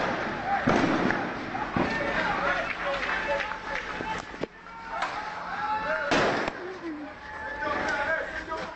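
Stun grenades going off among protesters on a Bahrain street: a few sharp bangs spread across the clip, with running, shouting crowd noise and voices throughout.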